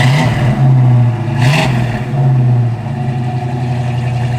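A 1965 Ford Mustang 2+2 engine idles steadily and loudly up close, a low rumbling drone with a brief rise around the middle before settling back to a slightly high idle.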